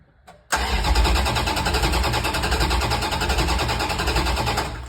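A 1968 Dodge Charger with a swapped Magnum engine on a Holley carburetor cranks briefly and catches, then runs at a loud, steady, close idle for several seconds.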